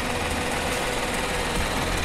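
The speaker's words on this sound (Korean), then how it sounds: "엔진 소리 일정합니다." A Genesis G90 3.8 AWD engine idles with the hood open, giving a steady, even hum with a faint mechanical ticking, heard close and alone.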